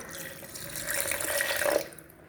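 A glass of water pours steadily into a blender jar for dragon fruit juice, a bright continuous splashing gush that swells and then cuts off near the end.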